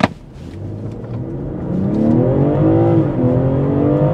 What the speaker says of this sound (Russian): просто отпуская тормоз и нажимаю на газ